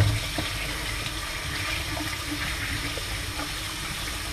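Tap water runs steadily into a sink while a gutted fish is rinsed out, a continuous close splashing hiss with no talking.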